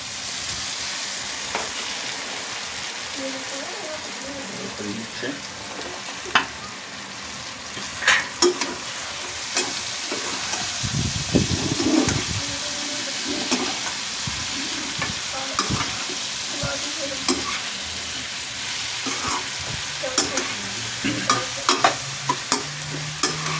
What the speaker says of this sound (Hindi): इस पोजीशन में इसके अंदर टमाटर मिक्स करें